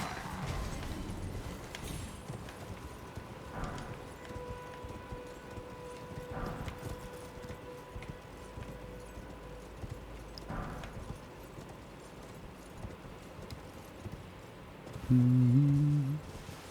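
Steady hoofbeats of a horse galloping in the video game Elden Ring run through the clip at moderate level under game ambience, with a louder burst near the end.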